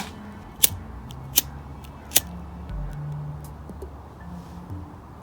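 Three sharp, distinct snips ring out about a second apart as rope for a homemade staff sling is cut, set against a faint steady hum.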